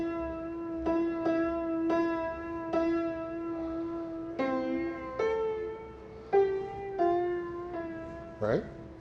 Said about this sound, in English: if I play soprano only, it'll sound like this